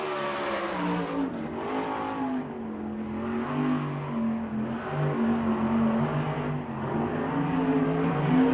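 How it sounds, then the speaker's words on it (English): USAC/CRA sprint cars race around Manzanita Speedway, among them a car with an Eagle chassis and Shaver engine, their engines producing a continuous, loud, rising-and-falling roar with no talking over it. "Car number 50, the Demon, is on the track."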